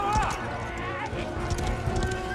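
Horse hooves clip-clop in a fantasy TV drama scene of The Rings of Power, steady muffled beats under voices and a swelling musical score.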